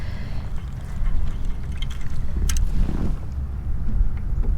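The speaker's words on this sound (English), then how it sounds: "Oh man, the wind." Wind buffets a microphone in low rumbling gusts, with faint water splashes and a brief clatter in the middle.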